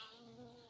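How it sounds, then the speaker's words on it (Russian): A bee buzzing close by beside a freshly opened Coral Charm peony, a faint, steady insect drone that holds evenly for under a second with no talking. "Пчелка улетела."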